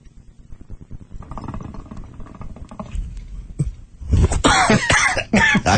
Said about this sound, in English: What's making me cough?